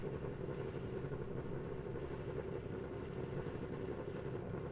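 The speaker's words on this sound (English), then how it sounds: "Listen to them idle. They've got such a throaty noise of these cars." Formula 3 cars idle on the starting grid at Zandvoort in a sim racing game, a steady throaty low engine drone that holds at an even loud level throughout with no talk.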